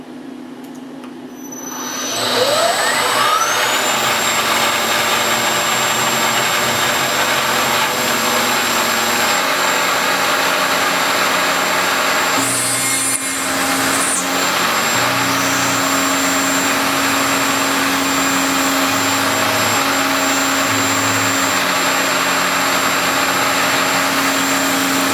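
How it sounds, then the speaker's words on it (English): A cutting machine with a resharpened cutter slices an air cleaner bottom pan: after a rising whir as it spins up, a loud, steady high-pitched machining whine holds for over twenty seconds, with a brief denser burst midway. "Cutter seems to be cutting all right."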